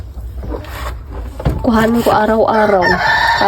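Chickens cluck and call loudly close by in a yard where the hens have been eating their eggs, with a drawn-out crowing-like call in the second half over a constant rumbling background.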